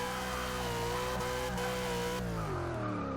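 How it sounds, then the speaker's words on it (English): A supercharged Mustang Cobra engine drones at high revs in Forza Motorsport 6, with a thin, steady supercharger whine riding on top, its pitch sliding down toward the end. "Nice supercharger whine."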